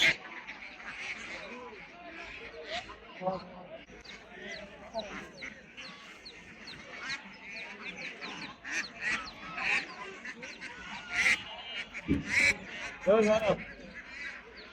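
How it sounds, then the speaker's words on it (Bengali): Ducks quack and honk repeatedly among a busy crowd at a duck and chicken market in Narsingdi, with people talking throughout and the calls rising louder toward the end. "দেখতেছেন অনেক রকমের হাঁস"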